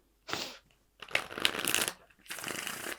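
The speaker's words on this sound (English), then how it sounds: "Just give these a quick shuffle." Tarot cards being shuffled by hand in three quick riffling bursts, close and crisp, with brief pauses between them and no talking.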